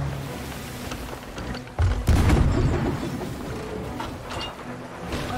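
A cannon shot in a naval video game, a heavy booming blast followed by a rumbling crash that trails off into a sustained low roar.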